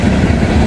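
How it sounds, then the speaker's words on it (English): A transfer train passes on a railroad track near a crossing, producing a loud, close, steady rumble of wheels and cars over a brief moment. "Transfer train, that's it."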